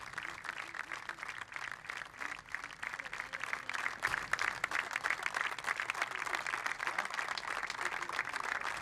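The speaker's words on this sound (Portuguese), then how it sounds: "deixem-me só ouvir um pouco destes aplausos" Distant stadium crowd applauding Benfica captain Luisão on his farewell as a player, a broad, steady wash of clapping heard from afar that swells a little midway and holds at moderate level.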